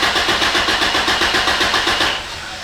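An Isuzu Amigo with a relocated fuel tank cranks in a loud, rapid rhythmic chug for about two seconds, then the noise drops to a quieter steady hum, close and with no talking.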